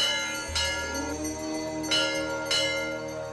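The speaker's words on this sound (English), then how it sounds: "The sounds of the temple bells oscillating in divine space." Temple bells at Badrinath strike three times, close and clear, each stroke leaving a long, shimmering metallic ring that hangs over the quiet.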